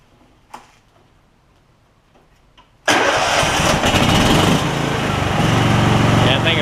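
A John Deere LX266 lawn tractor engine cranks and catches after a few quiet clicks, bursting into a loud, steady running roar that holds through the rest of the clip.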